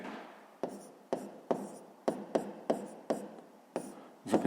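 A pen writing numbers by hand during a fifth-grade math exercise on adding fractions, a series of about ten quick scratchy strokes in an irregular rhythm, close and quiet, with no talking.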